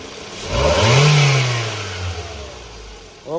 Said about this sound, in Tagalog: Rev mo nga doon.